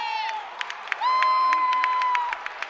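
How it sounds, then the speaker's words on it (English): Loud crowd cheering and whistling at a basketball championship game, with a sustained whistle tone and scattered shouts rising over the arena noise. "Might be a little bit loud cheering."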